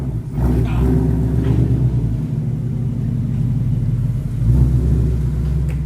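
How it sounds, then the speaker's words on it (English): Revving engine of an S550 Ford Mustang fitted with a JLT cold air intake and an E85 tune, a loud, steady low rumble close by that swells briefly near the end. "Oh, you can hear that intake."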